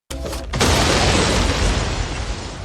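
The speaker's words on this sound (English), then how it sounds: "When opened, the box triggered a sudden explosion." A bomb hidden in a box goes off in a movie, a sudden loud blast after a short burst of sound, then a sustained roaring, rumbling decay filling the whole clip.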